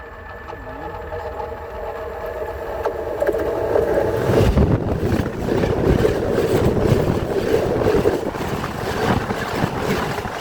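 A train passes close by along a railway line, its loud broadband rumble and clatter building from about four seconds in and holding steady to the end, with wind buffeting the microphone throughout.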